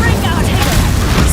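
Fiery spell blast in Hogwarts Legacy, an Incendio burst erupting as a loud, sustained roar of rumbling fire that fills the whole moment, with game battle noise around it.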